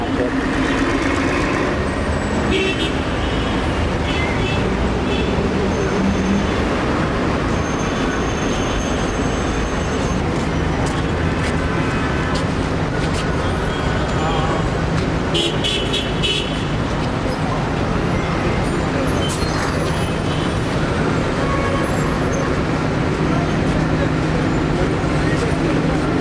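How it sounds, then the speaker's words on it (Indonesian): Dense traffic noise on a congested street near Mecca, a steady roar of engines and rolling vehicles with scattered horn-like tones and a rail-like rumble, continuous throughout with talking mixed in. "Lagi macet."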